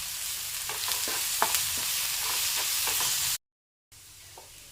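Onion and curry leaves fry in a pan for a curry, giving a steady sizzle with occasional crackles and stirring scrapes. It stops suddenly, then resumes more quietly.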